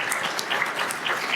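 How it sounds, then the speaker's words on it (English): An audience at a community meeting gives a short burst of applause for Eric and his team, a continuous patter of many hands filling the room at moderate level. "let's give a round of applause to Eric and the team that he brought to the table"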